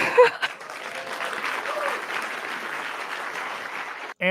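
An audience at a TEDx talk breaking into applause, a steady roll of many hands clapping at a distance that holds evenly for several seconds before cutting off abruptly, with a brief voice at the start.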